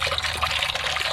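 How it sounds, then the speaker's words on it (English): Beer pouring into a crab steaming pot, a steady, fairly loud liquid stream lasting about a second with no voices. "So now I'll put one beer in here."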